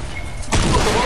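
Gunfire in the video game Fortnite during a chaotic free-for-all match, a sudden loud burst of shots that cuts in halfway through and then continues as dense rattling with no talking.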